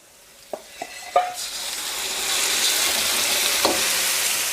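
Catfish frying in a hot pan with chili and garlic: a few sharp clatters and spatula knocks, then a loud, steady sizzle builds and continues close up.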